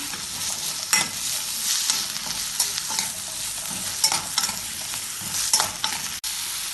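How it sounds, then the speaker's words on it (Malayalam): Turnip pieces sauté over a low flame, a soft continuous sizzle with periodic stirring scrapes close by. "ഇത് തീ കുറച്ച് വെച്ച് 2 മിനിറ്റ് വഴറ്റാം"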